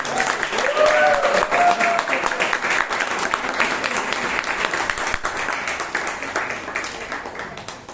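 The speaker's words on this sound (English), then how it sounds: "please give a huge round of applause to the president of Bangalore Toastmasters Club" A room of Toastmasters club members applauding their club president at a meeting in Bangalore, sustained clapping that swells early and gradually thins out, with a brief voice near the start.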